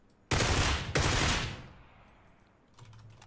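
Gunfire in the battle royale game PUBG, two loud, close bursts of rapid automatic shots followed by fading echo and faint clicking.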